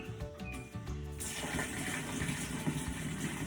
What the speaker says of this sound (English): That's purely just hot water going straight into the sugar there.